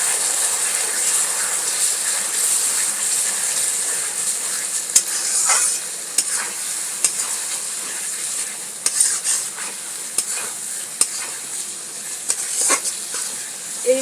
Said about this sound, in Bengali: এবারে মশলাটাকে ভালো করে কষবো এই আলু পেঁয়াজের সাথে